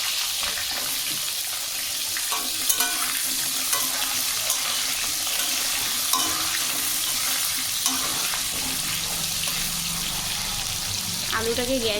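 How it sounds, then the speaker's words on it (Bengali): Cubed potatoes frying over a high gas flame in oil with black cumin seeds: a soft, continuous sizzle with occasional stirring scrapes, fairly quiet and close. "আলুটাকে গ্যাস বাড়িয়ে অনেকক্ষণ ধরে কিন্তু লাল লাল করে ভাজবো।"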